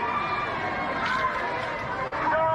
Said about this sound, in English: there is a massive crowd of people following them